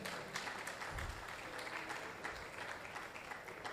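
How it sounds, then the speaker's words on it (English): Audience at a blockchain conference in Africa applauding a panelist, an even, sustained burst of many hands clapping at moderate volume, with no speech over it. "Please, a round of applause for him."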